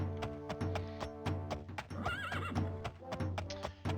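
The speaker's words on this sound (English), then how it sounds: "Hop on my horse" A horse in the 1996 PC game The Elder Scrolls II: Daggerfall whinnies loudly near the middle while steady clip-clop hoofbeats keep an even rhythm throughout, close and clear with no talking.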